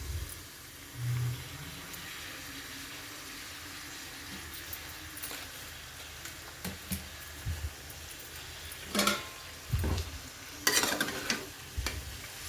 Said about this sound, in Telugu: ఇప్పుడు పొన్నగంటి కూర వేసేసుకుందాం